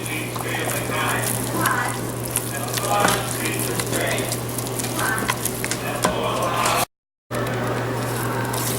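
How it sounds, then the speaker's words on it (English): A roux of flour, butter and onion cooks in a pan for chicken stew, giving a steady low sizzle and bubbling with repeated scraping stirs and a constant hum beneath, cut by a brief dropout near the end. "I'm just going to let this cook for about 2 minutes, stirring constantly."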